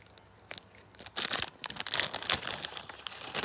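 Paper being torn away from packaging, a quiet start followed by a burst of sharp crinkling and ripping bursts, close and irregular, continuing through to the end.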